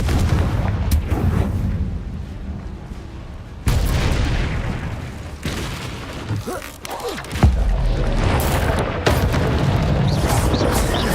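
Confringo spell blasts in Hogwarts Legacy, a series of sharp booming explosions spaced a few seconds apart amid combat noise, with a voice calling out spell names between hits.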